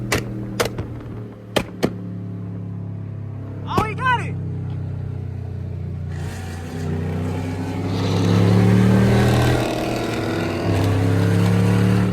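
A tuned Dodge Hellcat SRT on the highway gives a deep, steady engine drone and burble that swells louder in the second half, with a few sharp clicks and a brief voice near the start.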